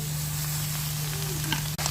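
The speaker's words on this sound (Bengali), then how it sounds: "লাল করে তারপরে হাঁসের মাংসগুলো দিয়ে দেব" Duck meat drops into hot oil in a pan over an outdoor wood-fired stove, giving a steady close sizzle with a low hum beneath and a small clatter near the end.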